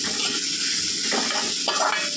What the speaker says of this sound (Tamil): கொஞ்சமாக தண்ணி ஊற்றுறது வெங்க பச்சை வாசனை போகுதுக்காக கொஞ்சமாக